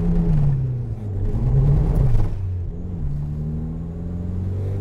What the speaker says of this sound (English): That was third gear, like partial throttle, and it's spinning.